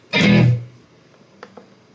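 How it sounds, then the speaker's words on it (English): A single short, bright guitar strike through a room reverb pedal swells briefly and then decays into a roomy reverb tail, followed by a couple of faint, soft taps. "Let's put some reverb on it. A nice room reverb."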